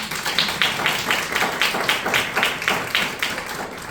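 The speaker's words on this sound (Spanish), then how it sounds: "Un gran aplauso para don Manuel García" An audience at a book event applauds an author with steady, even clapping for about four seconds, fairly close and loud, and no one speaks over it.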